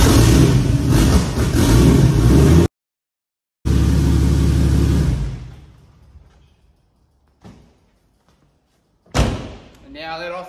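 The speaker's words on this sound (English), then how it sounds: "So open it, start the motor, bloody turn it off while the motor's still running, and then shut the car off" Turbocharged Barra-engined ute running loud and close with a heavy low rumble, then a door slam into silence, the engine restarting and fading, a brief thump, and the motor firing up again at the end.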